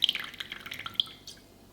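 Chili oil pours into a bowl of sauce for tantanmen ramen, with soft, quick drips and trickles that stop within a couple of seconds.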